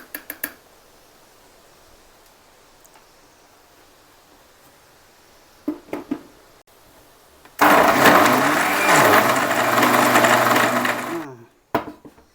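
A kitchen mixer grinder blends banana chocolate ice cream, roaring loudly at high speed for about four seconds before stopping abruptly, after a quiet stretch broken only by a few soft clicks and knocks.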